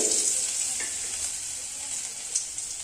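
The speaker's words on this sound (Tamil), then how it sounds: "கடுகு போட்டுக்கலாம் இஞ்சி பூண்டு பேஸ்ட்டு" Mustard seeds and ginger garlic paste frying in hot oil in a pan, a steady bright sizzle that stays close and even throughout, with a faint stir partway through.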